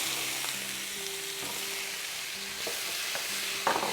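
Zucchini and peppers sizzle steadily in a hot pan while a utensil stirs them, giving a few soft scraping knocks over the constant frying hiss.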